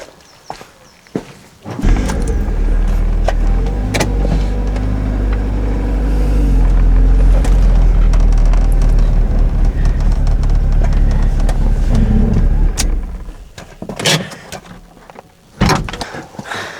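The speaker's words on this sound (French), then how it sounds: "Je déplace la voiture et on s'y met." A Mazda car engine starts and runs at a low idle for about ten seconds, rumbling steadily before cutting out, with door thunks and shuffling around it.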